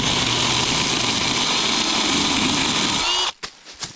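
A cheap drill-powered cutter grinds steadily through about 2 inches of material, a loud, continuous whine that cuts off abruptly near the end, followed by a few brief knocks.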